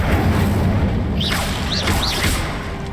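Incendio fire spell in Hogwarts Legacy: a booming whoosh of flame followed by several swooping, pitch-bending magical swishes in quick succession, loud against busy game ambience.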